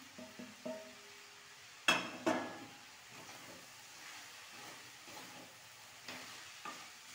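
Soybeans are stirred into masala frying in a pan for a mixed vegetable biryani, giving a soft steady sizzle with two sharp clatters of the spoon near the start and lighter scraping afterwards, no talk.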